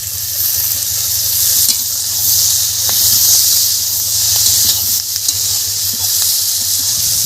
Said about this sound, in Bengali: পিড়িং শাক দিলাম, দিয়ে একটু ভেজে নিচ্ছি